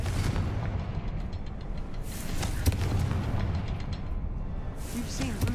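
A Confringo fire-blast spell explodes in the Hogwarts Legacy video game, heard as rumbling booms under a dense, continuous wash of in-game sound, with broadband bursts near two and five seconds.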